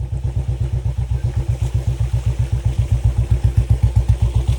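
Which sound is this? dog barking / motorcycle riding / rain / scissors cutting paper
motorcycle riding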